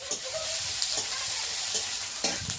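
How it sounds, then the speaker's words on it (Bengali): Ginger stirred and fried in hot oil sizzles steadily, with a few scraping stir strokes breaking through the constant hiss, near and moderately loud, no voices. "আমি আদাটাকে ভালো করে তেলে নেড়ে নিলাম।"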